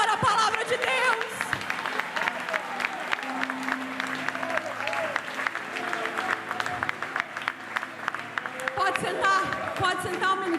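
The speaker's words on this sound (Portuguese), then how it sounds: "Você pode dar um aplauso ao Senhor," Church congregation applauding the Lord during a service, sustained clapping mixed with cheering voices and shouts, lively and close, continuing for the full stretch.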